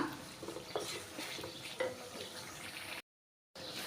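Dried fish fried with coriander powder and salt in a pan makes a soft sizzle with light scraping strokes of a spoon, followed by a brief gap of silence.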